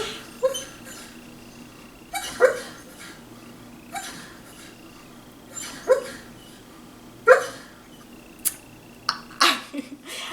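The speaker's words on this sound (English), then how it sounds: "My dog is dreaming." A sleeping dog lets out soft, muffled yips and whimpers at irregular intervals, faint and close, with quiet pauses between.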